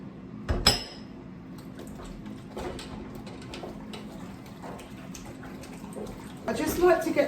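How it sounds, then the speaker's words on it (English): Dishes are washed up in a home kitchen sink, with a sharp clatter of crockery and cutlery, then running water and clinking near the end, while someone talks over it. "I'm going to do some washing up"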